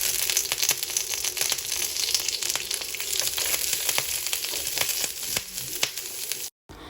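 Crushed ginger and garlic fry in hot oil in a pan, giving a steady close crackling sizzle with frequent small pops throughout, cutting out briefly near the end.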